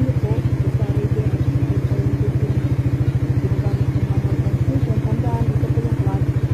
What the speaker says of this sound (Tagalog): So start na, naka-neutral yung motor.